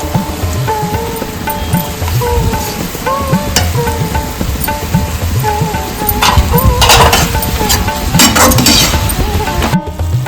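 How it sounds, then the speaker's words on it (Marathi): Fried onion, coriander and mint being stirred into mutton biryani, with steady metal spoon scraping and clinking against the pot over a soft sizzle, a few sharper clinks near the end. "थोडं परतून तळलेला कांदा घालून घेऊया कोथिंबीर आणि पुदिना घालून घेऊया"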